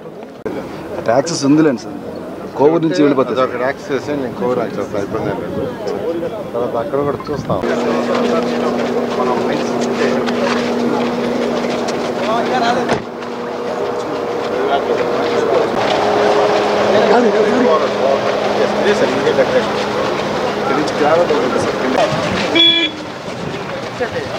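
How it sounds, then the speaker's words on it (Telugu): A tractor drives past at a sand-mining reach with a steady engine drone that rises and fades, mixed with other vehicle noise, while people talk over it. "అదే ట్రాక్టర్ పోతుంది"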